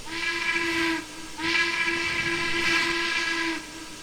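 Steam whistle of a Harriman MC-1 2-8-8-2 locomotive in Trainz 2019 sounds two long, loud, chime-like blasts separated by a brief pause, over a faint steam hiss, with no voices.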